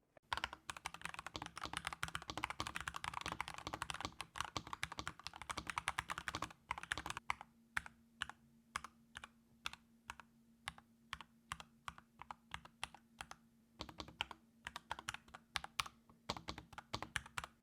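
Rapid typing on a Nuphy Halo96 mechanical keyboard: dense, fast keystrokes for several seconds, then slower scattered clacks with pauses, close and clear with a faint steady hum underneath.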